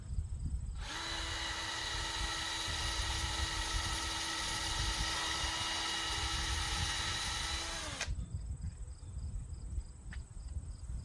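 A power drill drives into wood, whining continuously for several seconds at close range, its motor pitch steady before it stops abruptly, leaving quiet background.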